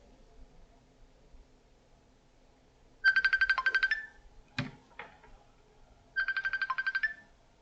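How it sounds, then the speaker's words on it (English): A phone ringtone sounds in two bursts of rapid repeated electronic trills, separated by a couple of sharp knocks, playing clearly and fairly close in an otherwise quiet room. "Sorry about that. Phone's ringing."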